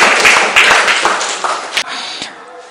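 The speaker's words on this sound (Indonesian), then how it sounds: "Yuk, kasih tepuk tangan yang meriah." Students in a classroom clap together at the close of a lesson, a loud burst of hand claps that thins out and fades to scattered taps by the end.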